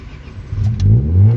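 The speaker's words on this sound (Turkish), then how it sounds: "Arabayı çalıştırıyoruz" An Opel car's engine cranks and catches, then revs up in a couple of swelling surges, loud and close over a low rumble.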